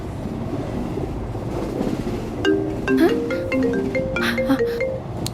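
A passenger train bound for Shirdi rolls along with a continuous low rumble and rattle, while voices and tonal sounds come in over it partway through.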